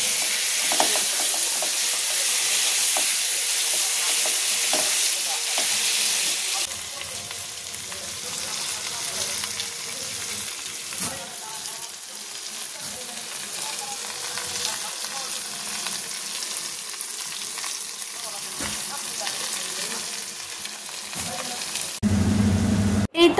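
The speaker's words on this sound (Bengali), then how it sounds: "এখন এই মশলাটার সাথে আমি মাংসটাকে কিছুক্ষণ কষিয়ে নেব।" Chicken pieces fry in a spiced masala in a pan for a chicken bhuna with potatoes, with loud continuous sizzling and repeated stirring scrapes that soften slightly partway through.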